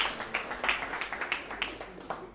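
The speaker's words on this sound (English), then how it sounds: "let's clap for him" Audience clapping at a panel discussion on misinformation: a modest, fairly steady patter of hand claps at moderate distance, with no talk over it.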